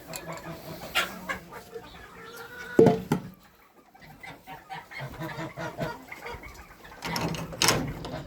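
Domestic geese on a smallholding honk and squawk at feeding and watering time, loud, close bursts of calls rising again toward the end, with scattered movement and faint noise between.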